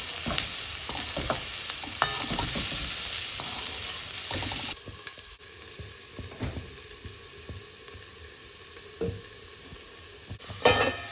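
Chopped ridge gourd sautés with onion in hot oil, a loud, steady sizzle at first that drops to a softer fry, with occasional spoon scrapes and taps from stirring.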